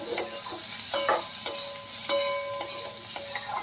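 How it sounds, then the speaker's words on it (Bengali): A spoon stirs a sizzling pan of food seasoned with oregano and black pepper, giving six sharp scraping clinks in a steady rhythm over a soft fry, close and clear. "নেড়ে নেব"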